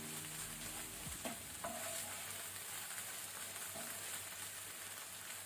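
A spoon stirs soya kheema with kasuri methi and butter in a hot pan, soft scraping strokes over a steady faint sizzle, close and quiet.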